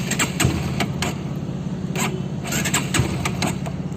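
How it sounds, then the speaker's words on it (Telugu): NS160 motorcycle engine cranking repeatedly without catching after running out of fuel, a steady low mechanical churn with rhythmic pulses throughout, close and moderately loud. "బండిని పుష్ చేస్తున్నాం కానీ బండి మాత్రం స్టార్ట్ కావట్లేదు."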